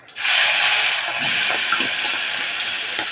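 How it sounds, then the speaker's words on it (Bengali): Prawns dropped into hot oil in a Bengali home kitchen set off a sudden loud, steady sizzle that hisses continuously after a quick onset, with faint crackles and spatters underneath. "তাহলে আমরা চিংড়ি মাছগুলো একটু ভেজে নেব।"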